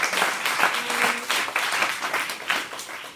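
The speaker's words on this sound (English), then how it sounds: "Maybe we should give them some more applause for their contributions." An audience at a panel event applauding the panel. The clapping comes in irregular bursts and swells over a few seconds, with some faint voices mixed in.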